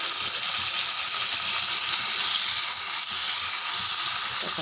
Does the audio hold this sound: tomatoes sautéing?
yes